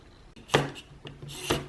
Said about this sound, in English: so then it's just a case of putting the 4 screws back in